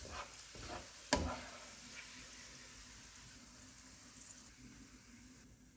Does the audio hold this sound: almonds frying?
yes